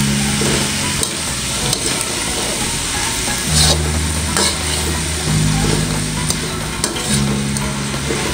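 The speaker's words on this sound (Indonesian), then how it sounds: "Kita oseng-oseng sampai lemes ya kacangnya." Long beans being stir-fried in a Maxim wok, with steady sizzling and repeated scraping of the spatula against the metal pan, close and continuous.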